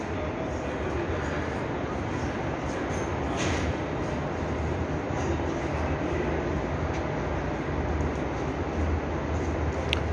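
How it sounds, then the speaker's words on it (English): An airport air train rumbles continuously with a low steady roar and faint rail clatter, heard up close for the full duration without pause, at San Francisco Airport. "They have the air train on the side here."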